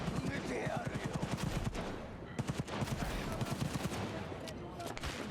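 Automatic gunfire in Cyberpunk 2077 rattles in rapid bursts, loud and close, with dense repeated shots nearly throughout and a brief lull before more bursts resume.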